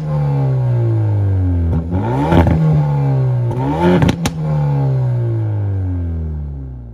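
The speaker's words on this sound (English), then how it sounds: "It's 2 litre, 4-cylinder turbocharged petrol lump." A Hyundai i30 Fastback N's 2-litre turbocharged four-cylinder petrol engine idles, then is revved sharply twice, each rev climbing and falling back, before it settles to a smooth idle and fades.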